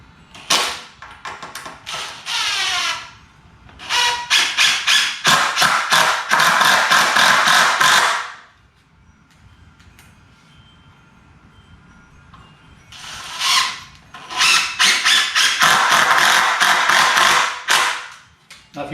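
Lag bolts are driven into a DIY wooden workbench frame with a power driver, giving two long close bursts of rapid ratcheting clatter separated by a quiet pause.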